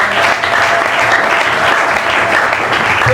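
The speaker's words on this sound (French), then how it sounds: "Si nous sommes d'accord, acclamons le Seigneur" A church congregation applauds in steady, loud clapping that fills the whole stretch without a break, with a faint murmur of the crowd underneath.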